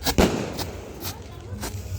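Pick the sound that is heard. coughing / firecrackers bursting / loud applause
firecrackers bursting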